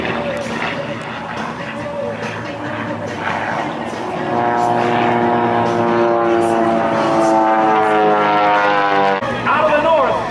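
An aerobatic propeller airplane performing snap rolls, tumbles and a knife-edge spin at the 2011 Arlington Fly-In, its engine droning loud and steady with rising and falling pitch, heard under continuous announcer commentary.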